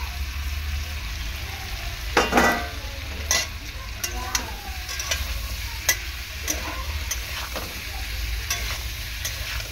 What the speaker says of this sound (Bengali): পটল আলু কুমড়ো চিংড়ি মাছ সব একসাথে এরকমভাবে 3 থেকে 4 মিনিট ভালো করে কষাবো।